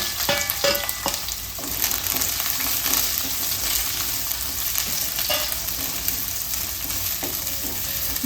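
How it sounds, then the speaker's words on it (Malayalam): Chopped onions hit hot oil with popped mustard seeds for an eggplant curry, giving a loud, continuous close sizzle and crackle with occasional stirring scrapes. "പൊട്ടിയ കടുകിലോട്ട് ഇടത്തരം 2 സവാള അരിഞ്ഞത് അത് ഇട്ട് കൊടുക്കാം."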